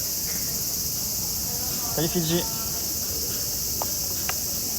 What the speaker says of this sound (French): Ah ouais, des cigales, hein. Il faut s'y habituer, l'été au Japon, c'est que ça.